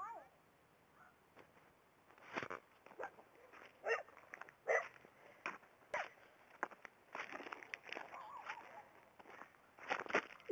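A person imitating a dog with a series of short, scattered bark-like yelps and whimpers, fairly faint and spread unevenly across the stretch, with some voice sounds mixed in.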